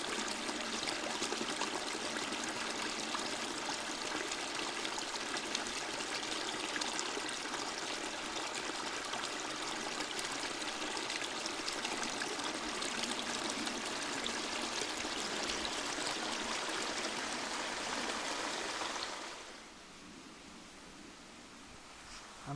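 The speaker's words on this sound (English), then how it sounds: "That lovely sound of water." A rain-swollen creek rushes steadily in a broad, even roar of flowing water, close and constant, before dropping abruptly to a quieter wash near the end; no voices.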